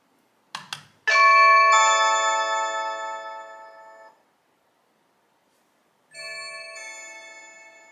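A Blink Video Doorbell (2021 model) chimes indoors: a short click, then a loud sustained bell-like ding that rings out for about three seconds and fades, followed after a pause by a second chime tone.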